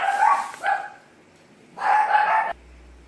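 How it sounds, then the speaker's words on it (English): A dog barks indoors in two separate bursts of a few sharp, close barks, with a short quiet gap between them. "my dog started barking"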